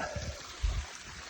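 Small waterfall stream on a mountain hiking trail, trickling faintly and steadily in the distance, with a soft low thump partway through.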